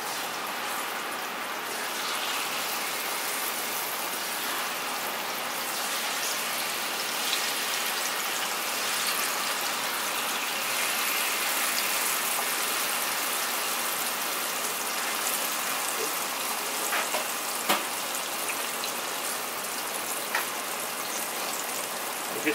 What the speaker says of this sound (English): Straight to into the fryer.